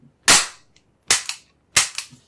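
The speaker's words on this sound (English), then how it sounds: "now we do a function check" Three sharp metallic clicks from a Sig Sauer P220 .45 ACP pistol with night sights and double-action decocker being dry-fired during a function check, each close and crisp, with a small rattle after the last two.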